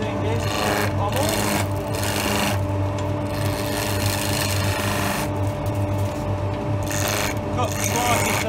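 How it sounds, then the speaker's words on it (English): Dust extractor roaring steadily beside a wood lathe doing hand spindle turning, a constant close whine with scraping tool cuts and bursts of chatter over it, while someone talks. "I'll try and talk over the extraction."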